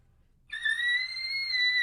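A person imitates an elk's bugle call: one sustained, high, whistle-like tone that starts suddenly and holds for about a second and a half, clear and alone against a quiet background.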